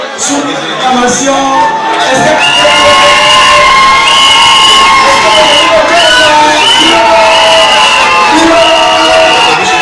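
Wedding guests at a customary wedding celebration cheering and whooping as the couple enters, a loud sustained roar of shouts and high voices with shouting and singing-like calls layered over dense crowd noise.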